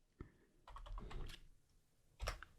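Typing on a computer keyboard: a short run of quiet, close clicks of keys, then a brief pause and a final firmer keystroke.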